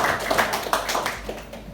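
A church congregation at a Pentecostal Sunday service claps in uneven rhythmic bursts, close and fairly loud, over a low hum of the hall.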